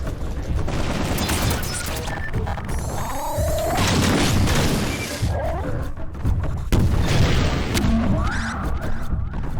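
Gunfire in the first-person shooter Half-Life 2: Episode 2, loud bursts of shots and booming impacts mixed with dense game noise and crashes throughout, no talking.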